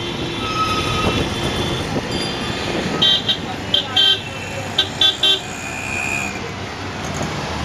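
City traffic in India heard from inside a cab: a continuous engine and road rumble with a cluster of short, sharp horn toots near the middle, dense street noise around throughout.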